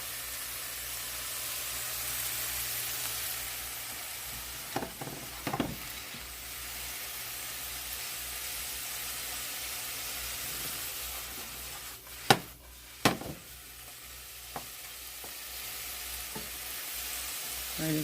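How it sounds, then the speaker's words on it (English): Mushrooms browning in a hot pan give a steady broadband sizzle throughout, with a few sharp scrapes and clinks of stirring, fairly quiet and with no talking. "now we're going to brown the mushrooms up a little bit"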